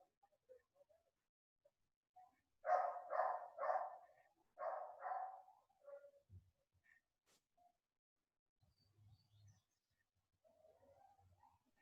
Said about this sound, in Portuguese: o cachorro latindo, Marlos, não é meu, é do vizinho